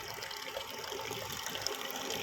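Water running continuously from a public drinking fountain on a street in Turin, Italy, a steady faint splashing flow with soft street ambience around it.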